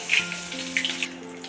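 Curry leaves dropped into hot oil in a kadai with cumin and mustard seeds, giving a brief, close burst of sizzling and popping that quickly settles to a softer hiss.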